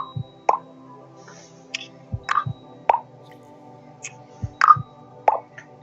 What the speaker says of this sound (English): IV drip.